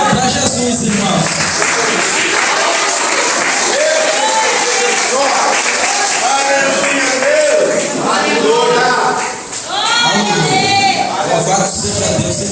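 A church congregation applauds, a dense, continuous wash of clapping and crowd noise that holds steady throughout, with voices mixed in.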